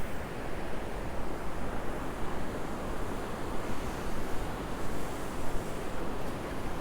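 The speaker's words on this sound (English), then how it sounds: "A lot of water going into the creek." Water pours over a spillway into a high creek near a partly frozen lake on a snowy April walk, making a loud, steady broadband rush that continues unbroken and close by, without any talk.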